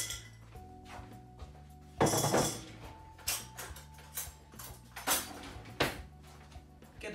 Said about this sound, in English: Get a spoon and then press it all down so it's pressed down nice and solidly and into the corners.